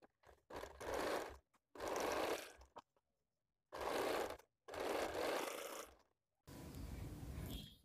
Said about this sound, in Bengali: তাহলে দেখুন এদিক থেকে প্রথম একটা সেলাই দিয়ে দিচ্ছি আমি